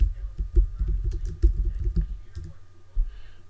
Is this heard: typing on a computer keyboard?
yes